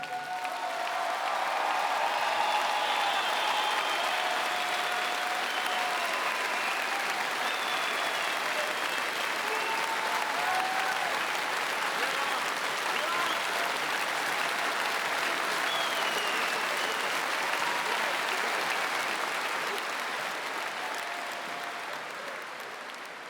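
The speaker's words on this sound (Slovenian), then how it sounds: "Zato prosim en močan aplavz za fante." Strong, sustained applause from a large concert audience at a Slovenian folk music show, a dense even wash of clapping lasting over twenty seconds, fading slightly at the end, with faint cheers.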